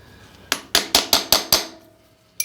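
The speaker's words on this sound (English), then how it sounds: "I'm just going to do this with a couple small taps with a little hammer" Small hammer giving six quick, evenly spaced taps on a metal John Deere 300/301A diesel injection pump during removal, crisp and close with a ringing metallic edge, then a final tap after a short pause.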